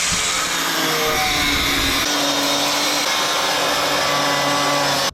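A power tool cutting through the metal subframe of an AWD Civic Type R: loud, continuous harsh grinding noise close by, running unbroken for about five seconds.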